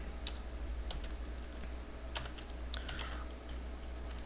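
Someone types C code on a computer keyboard, producing scattered, quiet clicks and short bursts of keystrokes over a low steady hum in a quiet room.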